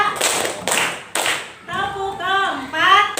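Classroom of students clapping a counted rhythm pattern: three sharp claps spaced evenly, then a voice calling out counts between the claps.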